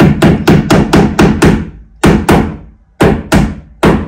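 A small nail driven by hammer during bedroom renovation, heard as a close, loud series of about a dozen sharp, evenly spaced blows with brief pauses between groups.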